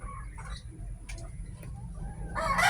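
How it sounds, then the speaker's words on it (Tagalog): Gamefowl chickens at a small game farm: roosters cluck in short bursts and one crows clearly at the end, close and fairly loud over a low steady rumble. "pakikita ko ulit sa inyo aking mga alagang mga manok dito sa aking munting manukan"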